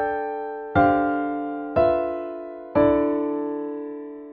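A quartal chord stacked in perfect fourths over an added low D bass note is struck three times in a steady rhythm, each attack ringing clearly and decaying slowly, with no talking.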